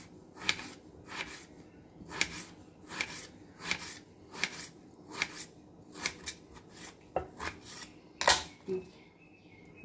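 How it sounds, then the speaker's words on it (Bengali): A knife slicing through a potato on a board, a series of crisp rhythmic cuts roughly every half second, close and clear with a few quicker strokes near the end and no talking. "মাঝখান দিয়ে এভাবে কেটে নিয়ে এবার আলুটাকে স্লাইস করে কেটে নেব।"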